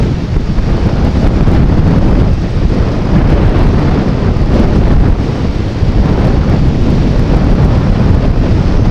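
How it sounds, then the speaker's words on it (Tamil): Strong wind roars steadily and loudly into an open vehicle, buffeting the microphone with a continuous rushing noise for the whole stretch. "இந்த அளவுக்கு காற்று அடிக்குதுங்க."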